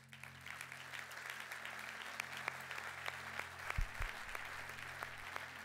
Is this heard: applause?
yes